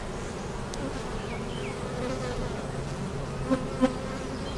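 Steady, dense buzzing of many honey bees close by during a hive inspection, a continuous drone with a couple of brief louder passes near the end.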